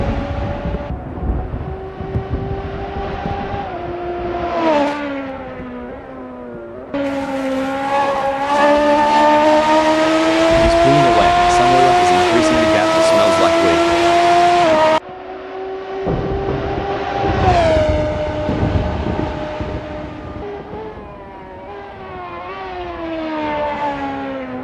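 Radical SR3 race car engine lapping Mosport in a sim racing game, a loud continuous high-pitched whine that rises and falls through gear changes and revs, with brief drops and pickups between straights.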